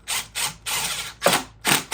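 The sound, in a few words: zip tie being tightened on a dirtbike part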